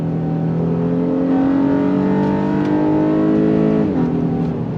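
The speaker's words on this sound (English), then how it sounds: "V6 does make quite a bit of noise when you go on throttle" A 2024 Honda Ridgeline Trailsport V6 revs loudly and steadily on throttle, its engine tone rising in pitch and then dipping briefly near the end, with no talking.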